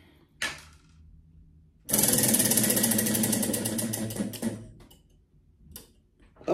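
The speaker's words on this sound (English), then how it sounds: "let's get started on spinning the wheel to see what chip we're gonna try first" A prize wheel spins with a rapid, steady ticking that starts abruptly after a brief knock, stays loud for about three seconds, then slows and stops, followed by faint handling sounds.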